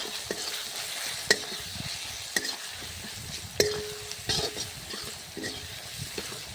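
Spice masala with a spoonful of Kashmiri chilli powder fries in a pan for chicken kosha, a low steady sizzle with a few sharp utensil clicks and scrapes against the pan, close and fairly quiet, with no speech.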